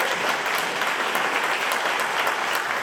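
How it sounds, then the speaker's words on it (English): Steady audience applause at a tribute celebration for a musician, dense and sustained at an even level throughout, with no speech over it. "a bigger hand of applause."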